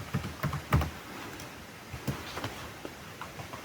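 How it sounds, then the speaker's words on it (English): Password keystrokes on a computer keyboard at a domain login screen: a short burst of soft clicks, then a pause and a few scattered taps, close and fairly quiet. "So I'm going to type John, the password for John."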